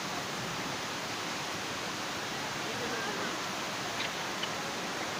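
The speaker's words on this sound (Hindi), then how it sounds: "पानी रास्ते पे आ रहा है" Floodwater pours across a road in Jim Corbett National Park with a steady, dense broadband rush, continuous and fairly distant, without a break.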